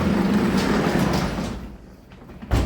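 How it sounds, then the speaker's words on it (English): A door is pulled shut indoors, a short solid thump near the end after a stretch of steady background rumble and shuffling. "Close this door."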